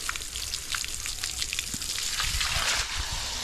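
Water drains from a backyard tarpaulin fish pond, a faint continuous trickling and splashing with scattered drips, quiet and close.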